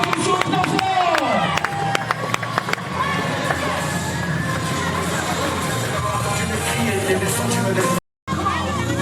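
Wedding guests at a customary and civil marriage ceremony clap and cheer loudly as a crowd, a steady dense roar of applause mixed with babble and music, with a brief dropout near the end.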